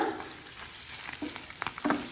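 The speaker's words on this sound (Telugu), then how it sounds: "ఎండుమిర్చి పచ్చిమిర్చి కరివేపాకు కూడా వేసుకొని కొంచెం ఇంగువ వేసి" Hot oil sizzles and crackles as dried red chilies, green chilies, curry leaves and asafoetida fry, with a few louder pops and stirring near the end.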